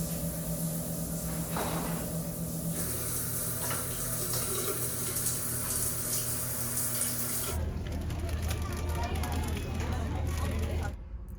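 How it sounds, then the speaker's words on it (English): Shower water runs steadily inside a van as a continuous close hiss and spatter, with muffled voices underneath, then changes tone near the end before cutting off abruptly. "I'm taking a shower."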